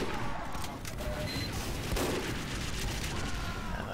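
Sniper rifle fire in a fast first-person shooter match, a dense steady wash of gunfire and explosion-like noise at constant loudness with no single isolated shot standing out.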